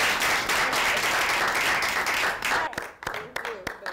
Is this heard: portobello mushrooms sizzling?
no